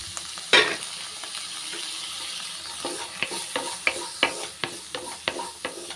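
Capsicum sautéing in butter for a vegetable soup, with a steady sizzle and a rhythm of stirring scrapes and taps that grow more regular toward the end, close and moderately loud.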